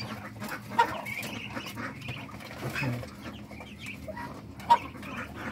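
Young muscovy ducklings, about a week old, feed on chick booster crumble on a small hobby farm, giving soft scattered peeps and chirps with a couple of louder calls over quiet background rustling.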